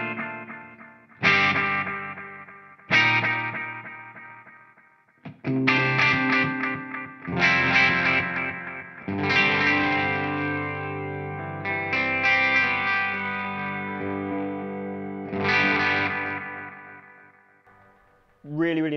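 Maestro analog delay pedal on a clean electric guitar: strummed chords and short phrases ring out, each followed by long repeating echo trails that decay slowly, alone and fairly loud.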